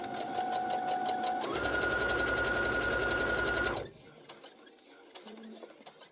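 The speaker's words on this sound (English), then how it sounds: "Sew your right sides together and sew those darts." Sewing machine stitching darts on a fabric bowl cozy with a 1/4 inch seam allowance, running steadily and close for about four seconds, changing pitch partway through, then stopping into quiet handling noises.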